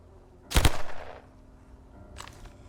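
A new weapon fires in 7 Days to Die: a sharp close double shot with a crisp ringing decay, then a fainter second report about a second and a half later.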